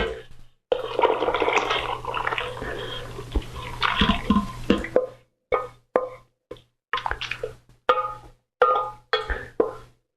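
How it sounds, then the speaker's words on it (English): Greens and their cooking water poured into a thick cream of potato soup for caldo verde, a run of splashing, glugging pours broken into short bursts with pauses between them, close and fairly loud. "And now what we're going to do is add in our greens with their water."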